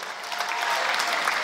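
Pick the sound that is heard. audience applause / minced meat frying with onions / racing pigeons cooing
audience applause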